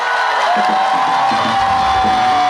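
A large crowd at a concert performance at the Damyang Bamboo Festival in South Korea claps and cheers loudly and continuously, a dense wash of applause with a sustained tone running underneath.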